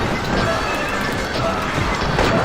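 Many horses neigh and hooves clatter amid a dense, noisy video game battle, continuous and loud throughout.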